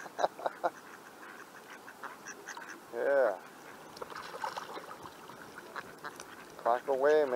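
A duck quacks several times outdoors near water in a Seattle neighborhood, short bursts scattered across the clip, with one brief spoken word.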